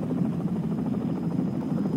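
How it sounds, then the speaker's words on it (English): Steady chopping rumble of a Coast Guard helicopter hovering nearby, continuous and fairly loud with a throbbing rotor pulse. "The Coast Guard helicopter is now hovering."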